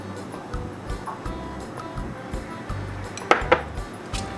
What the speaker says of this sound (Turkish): ve son çırpma işlemini gerçekleştiriyorum.